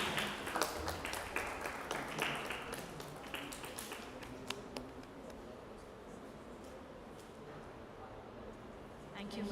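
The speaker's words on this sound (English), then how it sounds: "A huge round of applause to Ms. Vindhya Sampath." An audience at a CMR University event applauds, with scattered, fairly quiet claps that taper off into softer tapping. Faint murmuring voices remain underneath.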